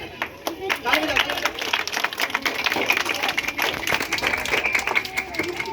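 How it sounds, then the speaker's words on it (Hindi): Audience claps at a school Independence Day function, a sustained mix of sharp claps and general applause with crowd noise and some voices underneath, fairly close and steady throughout. "ताली बजाइए।"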